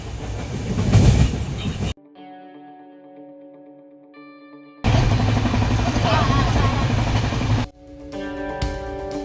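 A moving train on a family trip to Arunachalam rumbles loudly from inside in two noisy stretches, broken by quieter passages that carry steady tonal sounds.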